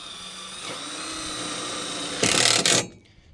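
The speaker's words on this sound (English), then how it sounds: "Just drilling that in right in the middle" A power drill whirs briefly near the end while drilling into the middle of a bow, a short loud burst of motor noise after a low steady hum, then cuts off.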